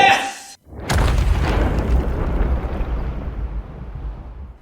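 A homemade shotgun axe fires with a single loud, deep boom right after a short silence, its rumbling blast decaying slowly over several seconds outdoors.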